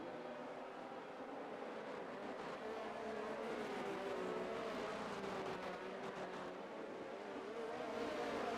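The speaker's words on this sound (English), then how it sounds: "We have all the cars now swerving to try to get the most possible best temperatures and brakes" Race cars in a racing video game circle the Silverstone track in Britain, their engines droning steadily together as a continuous, moderately loud hum with shifting pitch as they swerve to warm tyres and brakes.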